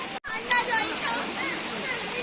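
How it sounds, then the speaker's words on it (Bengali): Waterfall at a hillside bathing spot, a steady broadband rush of falling water filling the whole clip, close and loud, with a brief dropout near the start and voices of people faintly mixed in. "দেখুন ঝর্ণা"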